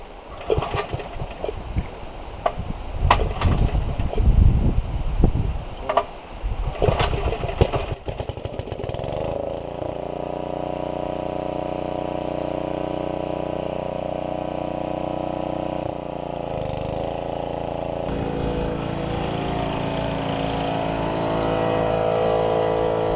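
A cheap $75 portable generator at a roofing job on an inn starts after several seconds of clattering and rumbling, then runs at a steady, loud, droning idle to the end.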